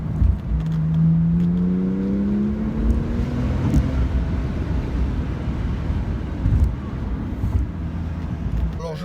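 A Porsche Turbo S accelerating hard from inside the cabin, a rising engine note sweeping upward under heavy wind and road rumble, with a person speaking over it.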